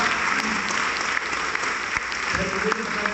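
A seminar audience bursts into dense, loud applause, sustained and even throughout, a crowd of many hands clapping close to the microphone.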